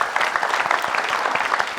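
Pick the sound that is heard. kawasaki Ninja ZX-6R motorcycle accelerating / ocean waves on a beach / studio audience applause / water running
studio audience applause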